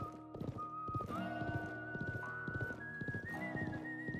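Horse hooves clip-clop in a steady rhythm, close by, with a horse whinnying over the top and a faint melodic tone behind, from the video game Live A Live HD, riding into the desert.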